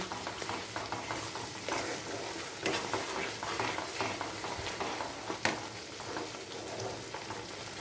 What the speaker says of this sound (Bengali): দিয়ে এবার মশলাটাকে একটু কষাতে দেব